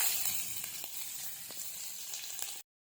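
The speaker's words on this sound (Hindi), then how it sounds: "इसमें मैं अब नट्स वगैरह डालती हूँ।" Nuts frying in melted ghee make a steady close sizzle with faint crackles, fading slightly before cutting off abruptly near the end.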